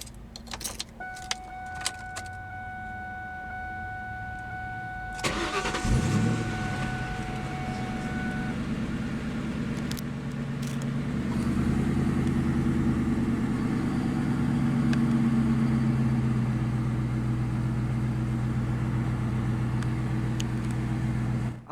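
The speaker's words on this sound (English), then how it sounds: "let's go ahead and start the engine and listen to that Magnaflow exhaust" A 2001 Ford Mustang GT Premium Convertible with a Magnaflow exhaust: after a few clicks and faint key sounds, the engine cranks and fires with a sharp burst, then settles into a steady, deep, close idle that continues alone.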